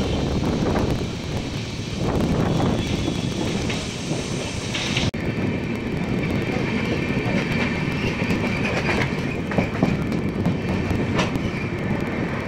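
Gomti SF Express passenger train in motion, heard from inside a coach: a steady, loud rumble with rail clatter and wind noise runs throughout, with a brief dip near the middle and no talk.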